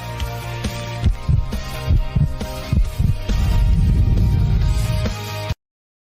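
Deep, thumping heartbeat pulses in a steady rhythm, loud and close, followed by a swelling low rumble that builds before cutting off.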